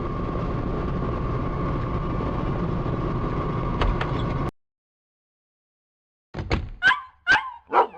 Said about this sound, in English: Is that's Shadow barking.